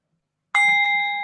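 A single bright meditation bell strikes and rings on with a clear, sustained tone that slowly fades, preceded by silence.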